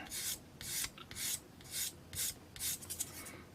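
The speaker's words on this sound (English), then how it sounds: "Now, using more coarse, using 400 grit sanding stick." Rhythmic rasping strokes of fine sanding with a 400 grit sanding stick on a Gundam model kit part, about seven back-and-forth passes in a steady tempo, close up with no talking.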